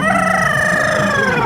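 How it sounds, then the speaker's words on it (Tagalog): A rooster crowing with a gurgling, wet-throated quality, one loud close crow that rises, wavers, and slides down over about a second and a half. "Yung tilaok niya parang nagmumumog. Parang may tubig sa lalamunan."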